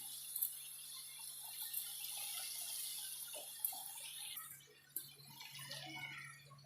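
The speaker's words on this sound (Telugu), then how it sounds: "దీంట్లో ఇప్పుడు లైట్గా వాటర్ యాడ్ చేద్దామండి" Water trickles and splashes steadily as it is poured into a pan of chicken curry, a continuous running-water wash with a few brief clinks and a faint constant hum underneath.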